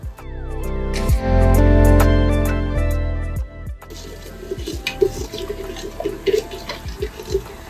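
Half a glass of water is poured onto sugar and maida flour for homemade pansthunalu sweets, a loud continuous pour that fades into scattered splashing and patter.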